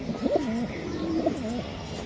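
Racing pigeons coo in a loft, with two soft, rolling coo phrases close by at a moderate level and no talk over them.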